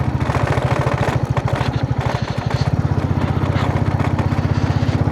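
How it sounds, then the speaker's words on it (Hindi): A motorcycle runs steadily on an off-road stretch in Ladakh, with a loose front panel whose clip has come undone. The engine pulses in an even, close, loud throb, with a faint rattle mixed into it and no talking. "आगे का ये जो पार्ट है लूज़ हो गया है पूरा, इसमें क्लिप होती है वो लूज़ हो गई है, इसलिए थोड़ा नॉइस आ रही होगी आपको।"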